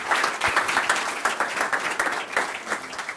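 An audience at a crowdfunding happy hour event applauds steadily, a dense wash of many hands clapping throughout.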